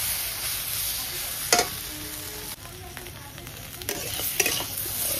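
Potatoes fry in a pan over a clay stove, a steady sizzle broken by several sharp scraping stirs and clatters close by.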